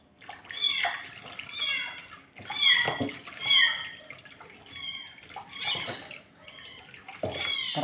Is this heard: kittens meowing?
yes